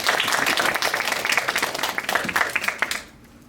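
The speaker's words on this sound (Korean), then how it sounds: "많은 박수 부탁드리겠습니다." An audience at a surgery career fair applauds a surgeon being introduced, a lively, dense clatter of many hands clapping for about three seconds before it quickly dies away.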